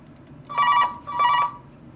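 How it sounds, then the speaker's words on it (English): A telephone rings indoors at a workplace, two loud electronic trilling bursts of about a third of a second each separated by a short gap, close and clear over a faint background hum. "Sorry for that interruption with the phone call."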